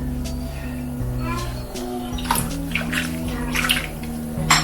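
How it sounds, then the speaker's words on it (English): Running water splashes over a salted Christmas ham as it is rinsed in a sink, a steady close gush with scattered splashes, while people talk over it throughout. "Make sure so we wash off nicely"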